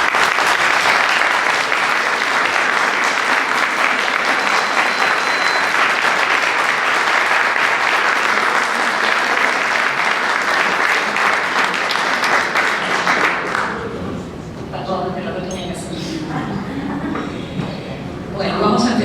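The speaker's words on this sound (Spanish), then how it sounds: "pido un aplauso para la inspectora María José" Sustained, loud audience applause for an inspector at a documentary presentation, clapping steadily for about thirteen seconds before fading as a voice begins speaking.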